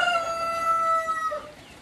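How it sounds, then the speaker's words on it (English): Chickens stand outside on a farm in the rain, giving a clear, drawn-out crow-like call with clucking over a steady background hiss. No one speaks. "found many of the chickens outside"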